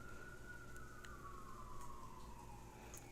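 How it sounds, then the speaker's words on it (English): A distant ambulance siren wails faintly outside and slowly falls in pitch as it passes, under a steady low background hum with no talking. "Blessings to whoever is in that ambulance."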